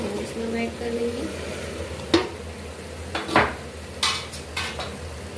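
Okra tipped into a pan of cooking chicken, followed by clattering spoon strikes against the pan and stirring over a steady background sizzle.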